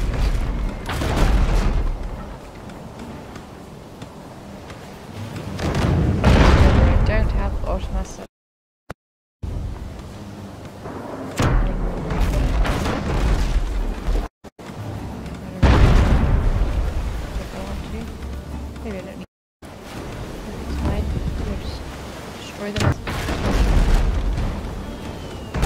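Ship cannons in the naval battle game Abandon Ship fire in repeated heavy booms and rumbling blasts, loud and close, broken by brief silent gaps over roughly twenty-five seconds, with a voice talking over parts of it.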